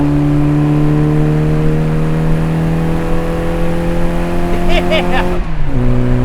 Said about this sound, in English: Yeah, this is a fast car. Built in 1965